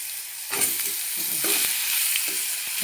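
Stuffed ridge gourd with masala, cumin and curry leaves frying in a pan, a steady close sizzle with occasional stirring scrapes and clinks, no voices.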